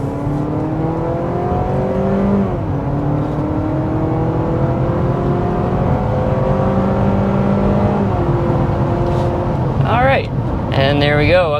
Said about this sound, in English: let's go ahead and start with the hard acceleration and see what this hybrid powertrain is all about